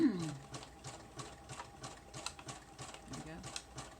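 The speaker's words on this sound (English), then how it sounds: "just listen to the sewing machine for very long" A sewing machine runs steadily, its needle stitching junk journal pages in a fast, regular mechanical rhythm, fairly quiet and close.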